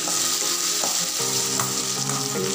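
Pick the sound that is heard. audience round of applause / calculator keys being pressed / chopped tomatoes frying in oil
chopped tomatoes frying in oil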